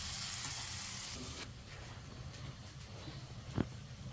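Okra (ladies' finger) sautés in a pan for a Tamil-style poriyal, giving a soft, steady sizzle with faint stirring scrapes and one brief clink near the end, and no talking.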